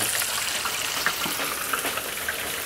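Oysters frying in hot lard in a fryer at an oyster festival give off a steady, dense bubbling sizzle that holds at an even level for the whole stretch, with no voices over it.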